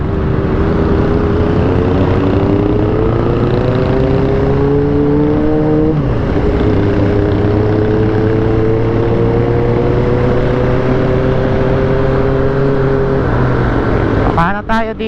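A Honda CB400 motorcycle idles in steady road traffic, its engine droning and shifting pitch as it revs up and settles, loud and close throughout.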